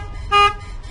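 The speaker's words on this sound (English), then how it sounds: "Now let me show you what horn is." A single short car horn toot sounds near and loud, standing out over a low rumbling background.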